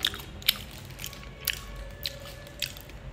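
Biting into and chewing mung bean cake, a soft Vietnamese sweet, close to the mic: five or six short, crisp bites spaced roughly half a second apart, with a faint steady background hum and no talking.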